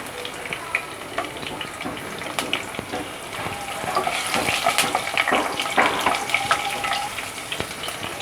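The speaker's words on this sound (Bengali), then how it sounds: "শুকনো মরিচগুলো দিয়ে দিব ভাজা হওয়ার জন্য।" Dried red chillies frying in hot oil in a pan: a steady soft sizzle with scattered pops and crackles and occasional stirring scrapes, growing a little louder midway.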